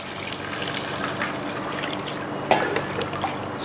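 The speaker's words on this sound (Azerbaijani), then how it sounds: "İlıqdan azca isti su əlavə edirəm." Warm water pours into a pot holding jars of tushonka (stewed meat), a steady close splashing trickle with a brief louder slosh partway through.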